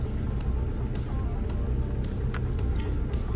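A van's diesel engine, fitted with glow plugs, idles steadily after an ignition switch repair, a low continuous rumble close by with no talk over it.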